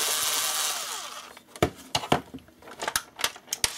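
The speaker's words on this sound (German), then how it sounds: "So, Schrauben sind gelöst." Screws being worked loose on a Nerf sniper blaster during a mod. A whirring tool sound fades out, followed by several sharp, close clicks and knocks of plastic and metal at an uneven rhythm.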